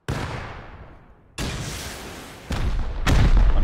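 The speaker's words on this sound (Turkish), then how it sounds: "Bomba attı." Several booming bomb explosions in a Rust Bed Wars match, four broadband blasts over a few seconds, each with a sharp onset and a long rumbling decay. The final two hit closest and loudest, with heavy low-end thump and no talk over them.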